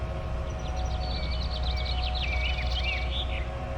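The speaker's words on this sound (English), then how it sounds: "Lots of birds, though." Birds chirp and trill in the Farming Simulator 19 countryside, a scattered run of high whistled calls over a steady low ambient hum throughout.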